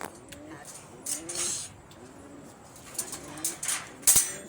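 Pigeons coo softly in low, repeated warbles close by, with brief bursts of wing flapping near the end. Faint voices can be heard in the background.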